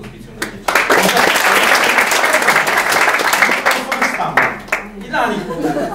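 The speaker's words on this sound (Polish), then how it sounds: "wielkie, ogromne brawa dla wszystkich pracowników Pomorskiego Hospicjum dla Dzieci" Applause from a gala audience honouring children's hospice staff, a dense, steady wash of many hands clapping that swells after a brief lead-in, with chuckles and voices mixed in near the end.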